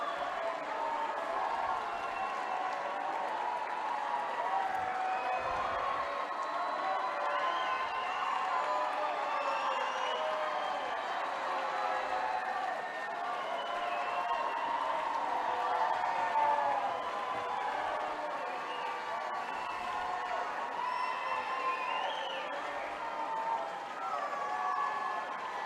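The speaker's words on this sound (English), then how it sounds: "There's the crowd cheer for her." A crowd and team cheer and clap for a swimmer finishing her race at a state swim finals, a sustained, fairly distant roar of voices filling an indoor pool hall.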